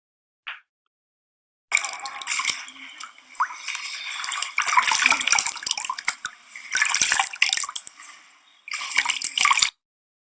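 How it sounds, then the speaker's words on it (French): Bathtub water stirred and agitated by hand, a brief splash followed by bursts of sloshing and swirling water, fairly close and without speech. "les camarades se sont amusés à agiter l'eau de la baignoire."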